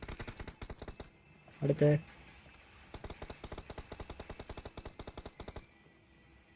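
Automatic rifle fire in the mobile shooter BGMI (PUBG Mobile) rattles out in rapid, evenly spaced bursts, loud and close, with a short pause and a brief voice between volleys.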